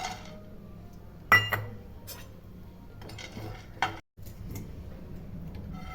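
Pistachios are lightly roasted and stirred in a pan, giving sporadic clinks and scrapes with a couple of sharper knocks against the pan. The sounds are close and quiet, with no voices.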